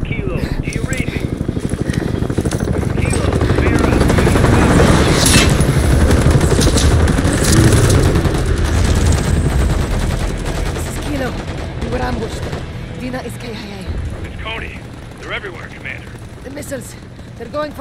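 Dense, sustained gunfire and explosions rage in a Call of Duty Modern Warfare 3 campaign battle, loud and continuous for the first half before thinning out, with radio-style voices talking over the combat.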